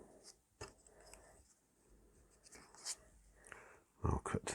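Faint scratching strokes as a marker or scribe marks cut lines on a removable magnetic load for a model railway hopper wagon, in quiet, close, intermittent bursts that end in a louder scuff.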